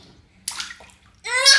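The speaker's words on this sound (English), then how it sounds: "Splash." Water splashing in a filled bathtub at a young child's bath time, two bright splashes separated by a quiet gap, close and fairly loud.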